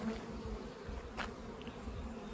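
Honey bees buzz around wet honeycomb with a faint, steady hum and one brief louder buzz as a bee passes close.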